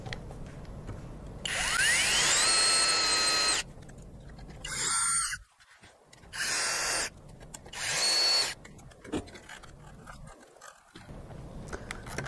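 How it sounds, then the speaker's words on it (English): A power screwdriver backs screws out of the front radar on a P100 gyrocopter in several short whirring bursts with rising and falling pitch, separated by quiet gaps and soft handling clicks. "Simply remove its screws."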